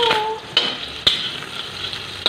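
A mung bean (monggo) dish being stirred in a pot, with a few distinct scraping clanks of the utensil at intervals over a soft, low background of cooking.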